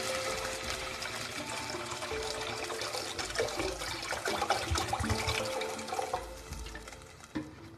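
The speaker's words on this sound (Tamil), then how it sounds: "அதில் நான் 1 லிட்டர் தண்ணி ஆட் பண்ணிக்கிறேன்." Water, about a liter, pouring into a heated pan for sweet corn vegetable soup, a steady continuous rushing splash that tapers off near the end, with no talking.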